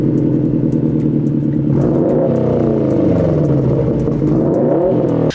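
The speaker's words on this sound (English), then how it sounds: "another exhaust system that I would be happy to own and install on my STi is the AWE Touring" A Subaru WRX STi with an AWE Touring exhaust idles, then revs up and down twice, loud and close, with a deep, steady drone and no talking.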